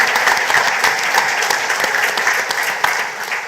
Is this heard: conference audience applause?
yes